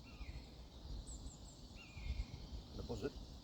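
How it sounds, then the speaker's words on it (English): Birds call in a February woodland at morning: a few faint, thin chirps and short whistled notes drift from a distance over a quiet background. "Hear the birds,"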